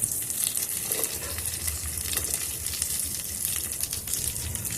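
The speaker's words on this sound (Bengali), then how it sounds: "কিশমিশটা দিয়ে আমি একটু নাড়াচাড়া করে একটু যতক্ষণ না কিশমিশটা আর কাজুটা লাল লাল হচ্ছে ততক্ষণ আমি একটু ভেজে নেব।" Cashews and raisins fry in oil in a pan, a steady close hissing sizzle with occasional stirring scrapes and crackles, continuing without talk.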